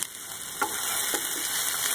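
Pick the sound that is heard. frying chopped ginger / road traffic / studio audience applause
frying chopped ginger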